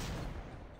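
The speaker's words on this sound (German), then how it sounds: "Ist ein Fass explodiert irgendwo?" A brief, loud barrel explosion in the game Trouble in Terrorist Town rumbles and rolls with dense low crackling, heard up close.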